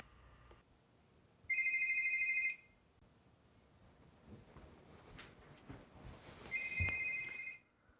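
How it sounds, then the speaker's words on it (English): Telephone ringing in a classroom phone-skills lesson: two bursts of electronic ring tone, each about a second long, moderately loud against a quiet background with some faint shuffling between them. "The phone is ringing."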